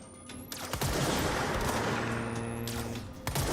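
Heavy gunfire from many armed enemies in the video game Control, a dense sustained fusillade of rapid shots and bursts filling the whole stretch, loud and close with sharper cracks near the end.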